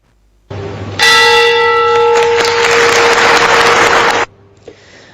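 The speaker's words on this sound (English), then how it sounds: "The exchange's bell was rung 5 times to call for rising stock prices next year." A stock exchange bell, rung five times, rings loudly with a sustained metallic tone over a noisy, crowded room, then cuts off; individual strikes are not clearly separated.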